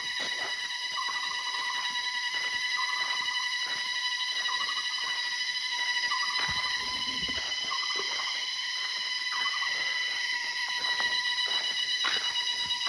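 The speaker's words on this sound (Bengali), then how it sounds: "আমি এত জোরে কোনদিন ঝিঝি পোকার ডাক শুনিনি।" Crickets in the hills of North Bengal near Kalimpong shrill loudly and continuously, a dense high-pitched chorus with steady layered tones and a few pulsing bursts.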